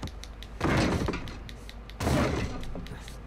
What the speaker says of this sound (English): help me push this open